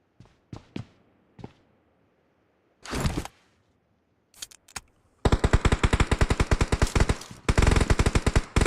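Gunfire in the mobile game PUBG Mobile: a few scattered single shots, then sustained rapid automatic sprays in long sharp bursts, loud and close.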